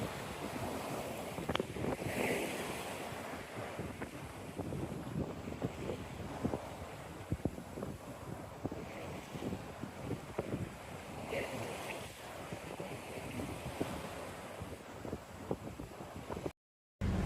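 Wind buffets the microphone and waves slosh against the hull of a Beneteau 423 sailboat under full sail on Chesapeake Bay, a steady rushing wash with irregular splashes throughout and no talking, ending in a brief dropout.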